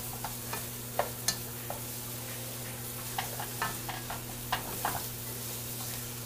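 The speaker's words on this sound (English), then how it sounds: "We're gonna give this a little stir." Vegan butter being stirred in a cooking pot, with faint sizzling under a steady low hum and quiet, scattered clicks of a utensil against the pot.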